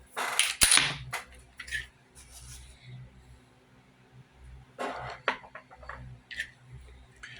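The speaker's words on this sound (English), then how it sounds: "So I'm making this weapon safe." An FN Reflex handgun is cleared and made safe with a few sharp metallic clacks and clicks of the slide and action, separated by quiet pauses and softer handling noises.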